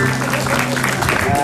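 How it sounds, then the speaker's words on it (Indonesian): A studio audience at a comedy talk show applauds in a steady, dense wash of clapping that runs loud and unbroken through the moment, with voices mixed in underneath. "Tepuk tangan, tepuk tangan."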